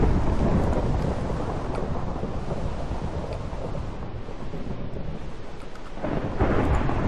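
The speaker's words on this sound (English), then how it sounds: "Mad storm" Heavy thunderstorm in modded Minecraft, with a loud, continuous rumble of thunder and steady rain hiss that swells near the end.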